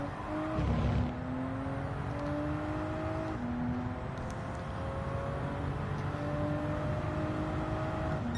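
A Toyota Supra races around Fuji in Gran Turismo 7, its engine note climbing steadily through the gears with brief drops at each shift, close and continuous with no talk.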